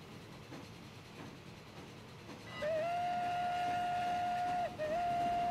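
A train in the Transport Fever video game rumbles along quietly, then a loud, steady horn toot sounds for about two seconds, breaks briefly, and resumes at the end.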